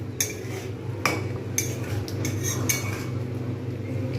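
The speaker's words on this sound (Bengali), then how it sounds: "নাড়িয়ে নেব।" A spoon stirs rose water into a pot of Hyderabadi chicken dum biryani, giving a few sharp metallic clinks and scrapes against the pan over a steady low kitchen hum.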